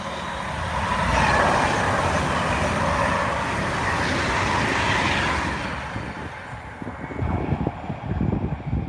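A train leaves a station, sometimes passing a Pendolino, with a loud, sustained rumble and rushing wheel noise that holds for several seconds, then fades into lower, rougher mechanical clatter at the end.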